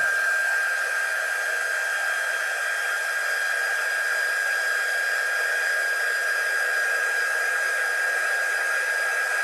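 A hair dryer blows steadily on wet paint on a polar bear shelf sitter, a constant close whirring hiss with a high whine, unbroken and alone for the whole stretch.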